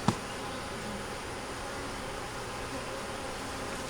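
Honeybees droning steadily at an open hive during an inspection, a continuous close, even hum with a brief knock at the start and no talking.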